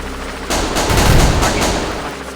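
Gunfire in the shooter game Execute bursts in suddenly as a short, loud, dense volley of rapid shots, close and harsh, fading into a lingering rumble.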